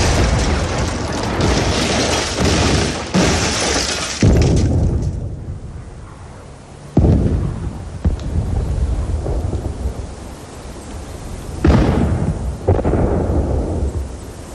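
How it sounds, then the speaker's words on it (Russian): Artillery shelling in a Soviet World War II film: dense, loud rumbling explosions roll on continuously, with fresh heavy blasts striking at intervals and no voices over them. "Артиллерия! Артиллерия!"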